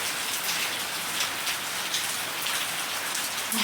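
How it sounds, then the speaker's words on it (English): Steady rain patters densely on a surface, an even hiss of drops that carries on evenly throughout, with no voices or thunder. "You like the rain, huh?"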